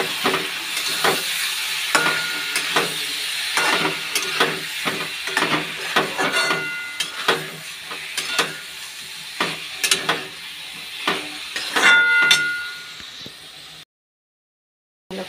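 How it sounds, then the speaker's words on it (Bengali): Grated garlic sizzles steadily in a hot pan, with repeated clicks of stirring against the metal. The frying is close and uninterrupted, with no talking, and cuts to silence just before the end. "একটু ভালো করে আর একটু ভেজে নেব রসুনটা"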